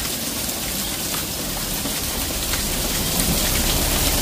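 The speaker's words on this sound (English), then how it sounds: "We got hailstones the size of 50p's." Large hailstones, about the size of 50p coins, pound down in a dense, loud, unbroken clatter during a thunderstorm in Cheltenham, Gloucestershire, UK, with no voices heard.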